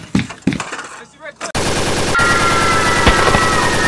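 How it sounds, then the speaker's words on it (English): Simulated mortar rounds landing in a combat simulation, a sudden loud sustained barrage of blasts and rattling fire that starts abruptly after a short quieter stretch with a few thumps, one sharp impact standing out near the end. "this thing only simulates the mortar rounds landing"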